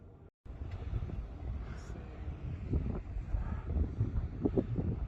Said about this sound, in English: And of course the wind.